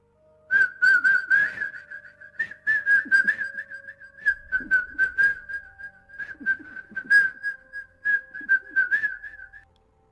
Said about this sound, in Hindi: इतनी रात को हॉस्पिटल में भला कौन सीटी बजाता है